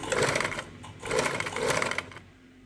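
A sewing machine stitching folded box pleats in fabric, running in two steady whirring bursts at a slow, careful pace before stopping.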